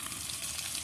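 Small fish fry in a pan, giving a continuous close sizzling hiss at a steady low level, with no talking.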